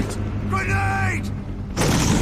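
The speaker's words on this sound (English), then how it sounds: "Grenade!" A grenade goes off in Metal Gear Solid V: The Phantom Pain on PS4, a loud, broad blast that erupts late and carries to the end, after a stretch of voiced shouting and background game noise.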